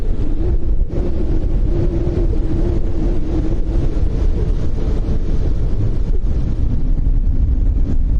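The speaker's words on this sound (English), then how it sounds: "Rather windy, as you can probably tell," Gusty wind buffets the microphone outdoors at Lanzarote Airport in the Canary Islands, a loud, continuous low roar with constant rumble throughout and no speech.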